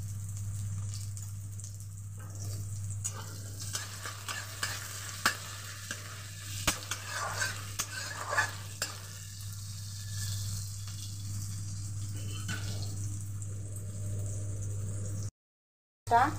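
Food frying and being stirred in a pan, with a steady sizzle and a scattering of soft scraping and clinking stirring strokes, close and continuous with no talk.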